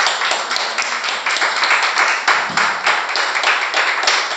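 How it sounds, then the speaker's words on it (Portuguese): A church congregation applauds in praise during an opening worship service, a dense, continuous wash of many hands clapping at steady volume throughout, with a faint voice underneath. "Mais um aplauso ao Senhor Jesus,"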